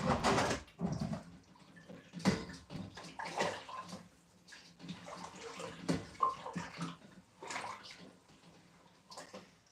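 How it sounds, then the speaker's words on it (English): A cloth being washed under running water at a kitchen sink during cooking prep, with uneven splashing, gushing and sloshing bursts close by and no talk. "Wash the cloth."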